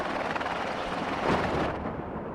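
A helicopter in the real-time strategy video game WARNO gives a loud, steady rotor and engine roar with a brief swell midway, heard alone without speech.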